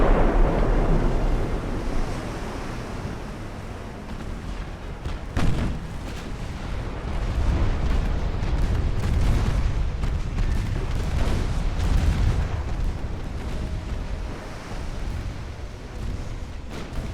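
Naval gunfire pelts a ship in Ultimate Admiral: Dreadnoughts, a steady roar of rumbling blasts and booms rolling under sea-like wash for the whole stretch, with a sharper crack partway through.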